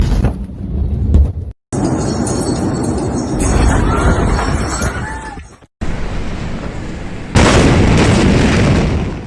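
The 2020 Beirut warehouse explosion in Lebanon: a massive, roaring blast rumbles continuously with deep booming bursts and crackling debris, recorded from a distance, with a few faint voices underneath.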